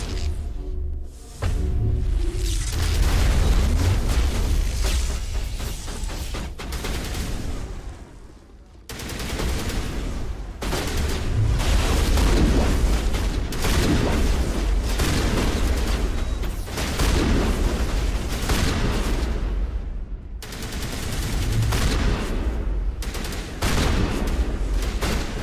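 Repeated shotgun blasts in a tough Mass Effect firefight, loud dense bursts of gunfire coming in volleys with brief lulls between, no talking.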